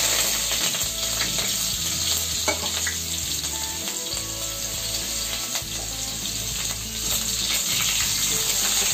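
Onion and garlic sauté in hot oil seasoned with asafoetida, a steady loud sizzle running the whole time with occasional scrapes and clinks of a stirring spoon, no voices over it.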